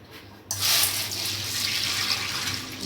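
Sago pearls being rinsed in a bowl under running tap water: after a half-second of near silence, a steady, close splashing gush of water starts and keeps flowing without a break, with no talk over it.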